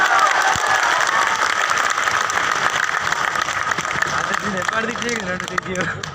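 Loud, dense clapping from a crowd at a live Veer Tejaji festival performance in Barmer, India, continuing throughout, with a voice faintly audible beneath it near the end.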